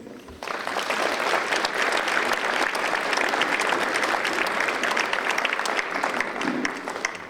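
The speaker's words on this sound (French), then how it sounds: "Donc je pense qu'on peut les applaudir." An audience at a New Year's address bursts into steady, even applause after a brief quiet start, the clapping holding at a constant level for about seven seconds with little talk.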